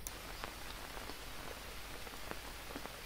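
Steady rain falling in the jungle survival game Green Hell, a soft continuous hiss with scattered drop patters, fairly quiet and without talk.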